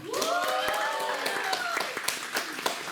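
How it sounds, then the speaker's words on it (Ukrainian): An audience applauds at the opening of a live event in Kamianske, Ukraine, a steady patter of clapping with voices and rising calls over it, filling the whole moment. "Друзі, оплески вам!"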